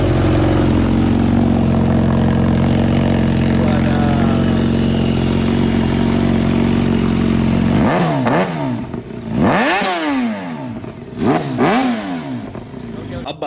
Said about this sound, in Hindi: तो आओ सबसे पहले सुनते हैं SC प्रोजेक्ट का साउंड।